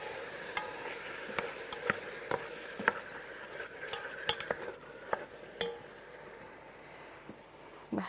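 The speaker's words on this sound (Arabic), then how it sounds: "نقلب اللحمه." Meat frying in a pan with carrots and zucchini nearby, stirred with a utensil that scrapes and knocks against the pan in irregular taps over a steady soft sizzle.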